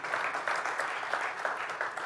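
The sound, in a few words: audience clapping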